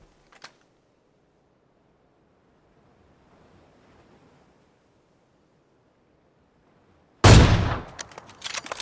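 Gunfire in PUBG on a beach along the coast, a sudden loud burst of shots near the end following a long quiet stretch with faint surf-like background.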